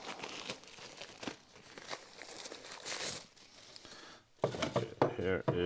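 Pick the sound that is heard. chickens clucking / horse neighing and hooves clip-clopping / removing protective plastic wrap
removing protective plastic wrap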